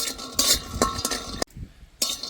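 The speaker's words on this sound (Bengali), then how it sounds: "এবার কিছুটা বাদাম আমি ভেজে নেব। আমি তেল ছাড়াই ভাজছি" Peanuts dry-roast in a kadai without oil, rattling and clinking as a spatula stirs them; close metallic scrapes come in short bursts with a brief quiet gap midway.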